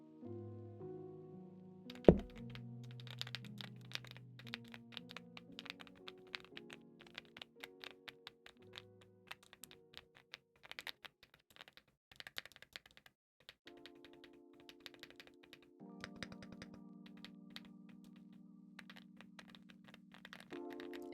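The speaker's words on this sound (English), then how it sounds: "How clicky is it? I love the way this keyboard sounds." Keys clack in rapid, uneven bursts on a clicky mechanical computer keyboard, close and crisp, set against steady soft background music with no talking.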